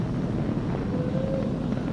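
A SpaceX Falcon 9 rocket carrying the crewed Dragon capsule climbs after launch, making a steady, heavy broadband roar and rumble that carries on without a break, with a buffeting, wind-like quality.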